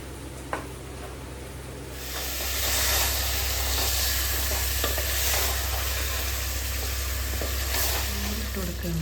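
Two chicken leg pieces drop into biryani masala in a pan, a faint clink followed by a steady, loud sizzle and hiss of frying.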